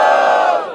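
A crowd at a street rap battle lets out a loud, sustained roar of cheering and shouting during a vote, dense and close, fading slightly at the end.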